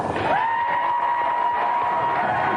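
A television studio audience in a games show applauds and cheers a contestant, a steady wash of crowd noise holding at even loudness throughout, with a sustained electronic tone sounding over it.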